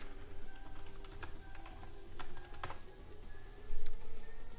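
Fingers type on a computer keyboard up close, a run of uneven key clicks with brief pauses and a low hum in the room behind.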